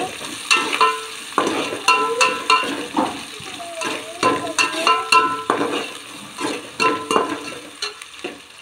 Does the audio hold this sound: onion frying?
yes